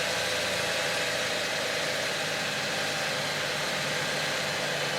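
The engine of a 2008 Ford Fusion idles steadily during a transmission flush, a close, continuous running drone with a faint knocking vibration and no talk.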